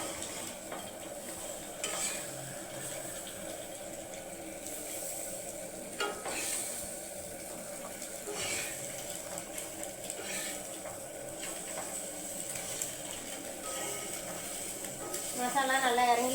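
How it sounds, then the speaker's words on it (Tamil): Cut eggs sizzle on a dosa griddle for egg roast, a steady frying hiss with occasional scraping stirs, intensifying near the end. "கட் பண்ண முட்டையெல்லாம் தோசைக்கல்லில் போட்டுக்கலாம்."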